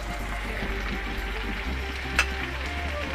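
Onion and tomato fry in a pan for chicken asado, a steady close sizzle with faint stirring and one sharp clink partway through, no voices over it.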